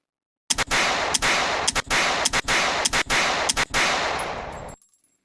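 Vector SMG firing in a video game: loud, close bursts of rapid automatic gunfire in several short strings with brief pauses between them, ending with a small metallic clink.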